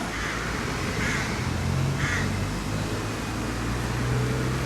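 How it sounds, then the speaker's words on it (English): Several harsh bird calls ring out in short bursts against steady outdoor rumble, crows cawing at a distance with a few calls overlapping. "Pigeons and the crows tend to fight, but I can hear them calling"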